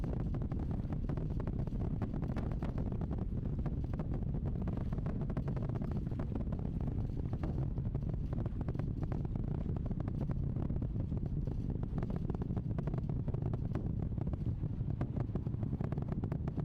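The Artemis II rocket's engines thunder in a deep, steady, distant rumble as the vehicle climbs past supersonic speed, a broad continuous roar with no voices.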